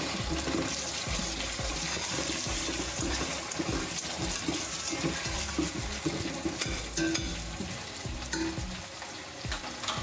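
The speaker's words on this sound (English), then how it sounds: "I'm going to stir this quickly and let it fry a little bit." Steady, loud sizzling of potatoes and broad beans frying in a pan for curry, with scraping and clattering strokes from stirring throughout; no voices.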